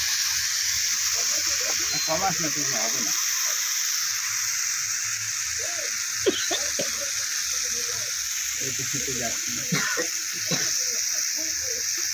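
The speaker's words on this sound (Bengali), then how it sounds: "দেখো একদম পুরো কড়াই পুড়ে যাচ্ছে" Food sizzles in a wok that is scorching on an induction stove, with a steady close hiss running throughout while a voice talks intermittently over it.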